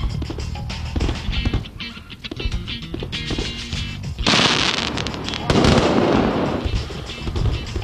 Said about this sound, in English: They've decided to put on a fireworks display just outside our window that continues well into the night.